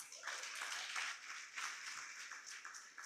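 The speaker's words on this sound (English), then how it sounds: "let us give the platform and its leadership a round of applause" Faint, distant clapping from a youth platform live-stream audience applauding the platform and its leadership, thin and uneven in short bursts, quiet and muffled.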